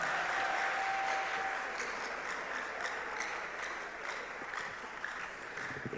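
Audience applause at the closing ceremony of Ghana Digital Innovation Week 2023 rolls on steadily, loudest at the start and easing slightly as individual claps continue.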